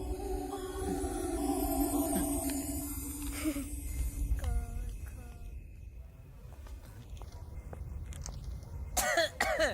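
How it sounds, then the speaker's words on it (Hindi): A person coughing and clearing the throat in a Bollywood action film scene, a few short coughs heard amid a busy background of music and voices. "बहुत खांसी आ रही है"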